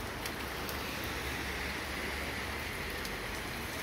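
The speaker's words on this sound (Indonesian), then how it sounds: "Tapi gerimis gini." Light drizzle falls around an outdoor market stall in Tanjung Selor, Kalimantan, making a soft, steady patter close by with nobody speaking.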